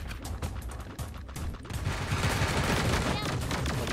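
Laser rifles and sniper guns fire in the video game Sausage Man in rapid, dense bursts of shots, close and continuous, with someone talking excitedly underneath.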